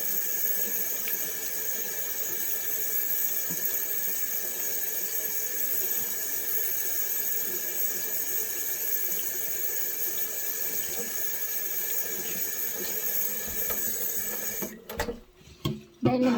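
Cold tap water running steadily into a sink while salmon is rinsed, a close, continuous splashing hiss that cuts off near the end with a few drips and handling sounds.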